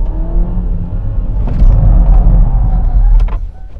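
Ford Ka+ 2017 engine revving during a handbrake parking attempt, a loud low rumble that swells midway with brief rattles and jangles before easing off near the end.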